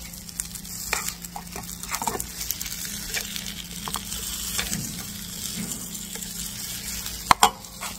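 Fish fillets for Korean saengseon-jeon pan-frying in oil, a steady soft sizzle under occasional spatula taps and pressing sounds, with one sharp clink near the end.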